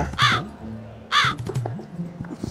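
Two loud, harsh crow caws ring out about a second apart, close by, with quieter murmuring and faint background sounds in between.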